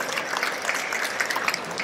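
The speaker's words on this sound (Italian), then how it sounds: "merita veramente un applauso spontaneo da parte vostra" A festival audience at the Festival dell'Oriente claps in a dense, steady round of applause, fairly close and without pauses.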